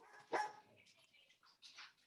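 A dog barks once sharply, followed by a few softer yips and whimper-like noises, fairly close in a quiet room.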